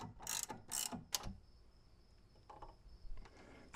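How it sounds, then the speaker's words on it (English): A hand ratchet clicks rapidly in short bursts while tightening a bolt on a Saab 9-3 front strut, close and crisp, with quieter clicks trailing off afterward. "I'm just going to use a different ratchet here just to be able to get this quickly down"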